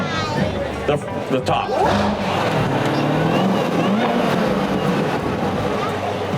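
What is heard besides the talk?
2017 Chevrolet Corvette Z06 C7 engine, 650 horsepower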